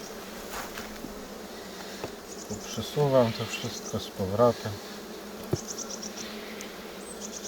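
Honeybees from a spring father colony in eastern Poland drone steadily in an open hive, a close, continuous buzz, with someone speaking briefly over it midway.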